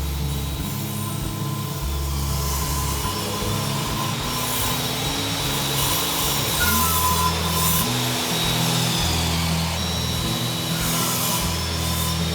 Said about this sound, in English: I cut the tenon on the column using a tenoning machine.